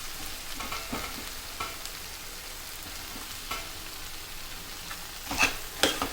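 A spoon stirs potato capsicum curry in a pan, scraping and knocking at irregular intervals over a soft, continuous sizzle, close and without talk, with a couple of sharper clanks near the end.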